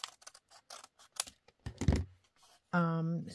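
Paper torn by hand into individual pieces for a junk journal, a run of short dry rips and crinkles ending in one longer tear, close and fairly loud, followed by a brief voiced sound.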